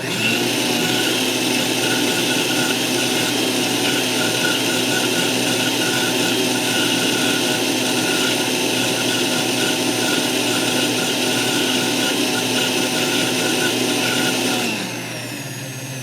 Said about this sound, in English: let's see what this new blender can do